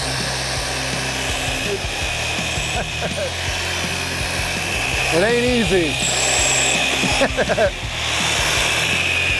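A loud old Sears power drill whirs continuously, its motor pitch shifting as it bites, while someone talks briefly over the droning.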